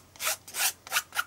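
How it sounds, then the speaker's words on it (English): A palette knife scrapes paint across an art journal page in four short, rasping strokes, close and distinct with brief pauses between them. "let's just start scraping paint"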